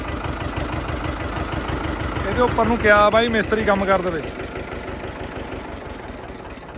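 A 475 tractor engine idles with a steady low, rhythmic chug throughout while someone talks briefly over it in the middle.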